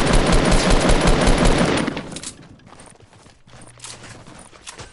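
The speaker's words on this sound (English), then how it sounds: "I'm getting shot at." Video-game gunfire directed at the player: a loud, rapid burst of automatic shots for about two seconds, then quieter scattered cracks and clattering game sounds.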